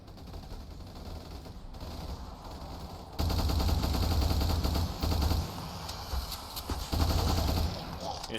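Dense automatic and rapid gunfire from a zombie survival mode in Ultimate Epic Battle Simulator, a steady distant crackle that jumps to a loud, continuous barrage of shots partway through with no voices.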